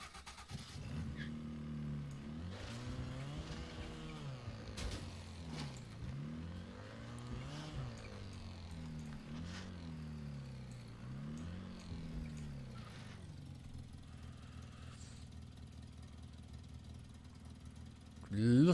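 Small junkyard car engine in Mafia III: a faint, buzzy engine revs up and drops back repeatedly in a wavering pattern for about thirteen seconds, then settles to a quieter steady hum before a sudden loud burst at the very end.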